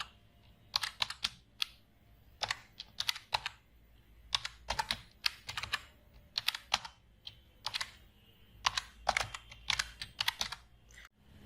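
Steady typing on a computer keyboard while an HTML file is written in Notepad: close, crisp key clicks in quick irregular bursts with short pauses, and no one talking.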